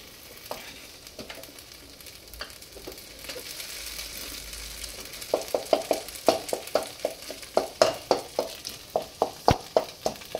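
Maggi noodles with egg fry softly in a pan while a spatula scrapes and taps in a quickening run of sharp, regular strokes. Faint sizzling runs underneath and there is no talk.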